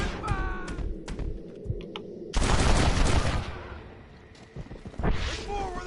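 Gunfire in the Red Dead Redemption video game, a dense burst of rapid shots partway through over a background of game ambience, with a few fainter pops around it.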